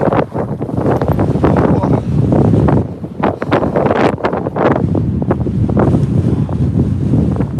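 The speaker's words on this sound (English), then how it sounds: "That wind is so strong." Strong wind roaring across the microphone during an e-bike ride on streets, loud and constant buffeting that covers everything else for the whole stretch.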